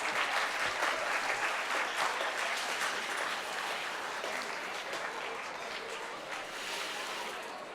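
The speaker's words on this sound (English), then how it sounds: "Give them a big round of applause" Sustained applause from a school quiz audience in Chennai, dense and even throughout, slowly fading in strength toward the end.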